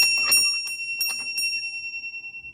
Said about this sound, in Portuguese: olha que fofura aqui, ó, a campainha.